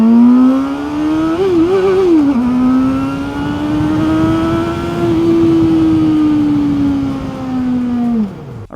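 Benda LFC700 motorcycle engine droning loud and close as it is ridden, its pitch dipping and rising through a couple of gear changes before falling away as the rider eases off.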